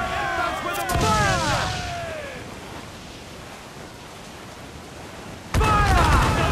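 Naval cannon broadsides from a ship battle in Assassin's Creed IV Black Flag, with heavy booming blasts rolling out and shouted game dialogue over the noise.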